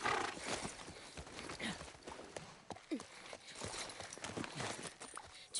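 Steady clip-clop of horse hooves at a walking pace in The Last of Us Part I, with occasional faint vocal sounds underneath and a busy game background.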